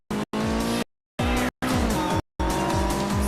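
A Wangan-spec Nissan Skyline R33 race car in a driving game revs hard in bursts, engine notes rising and falling between sharp gaps, with tire squeal and skidding as it drifts.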